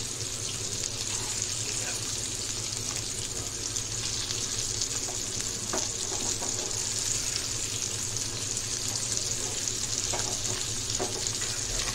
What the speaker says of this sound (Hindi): आपण सौंदळ्या फिश फ्राय करून घेऊया।